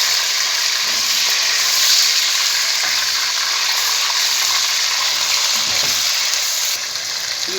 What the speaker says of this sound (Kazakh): Жақсылап етті қуырып аламыз.